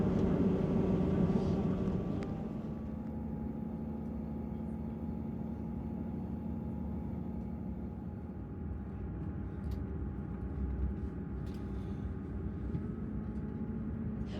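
An East Midlands Railway train reversing out of Sheffield station, a low, steady engine rumble and hum heard from on board, with a louder initial surge settling into an even drone and a few faint clicks.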